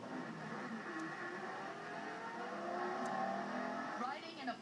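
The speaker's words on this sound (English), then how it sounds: "Riding in a Porsche Carrera GT is simply visceral." A Porsche Carrera GT sports car on a test drive gives a sustained engine drone heard from inside, rising into a revving surge near the end while someone speaks over it.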